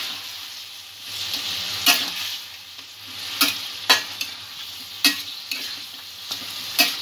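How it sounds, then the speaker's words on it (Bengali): Chicken kalia masala frying in a pan, a steady sizzle broken by sharp periodic clacks of a spatula stirring against the pan, close and without talk. "ভালো করে মিক্স করে নেব।"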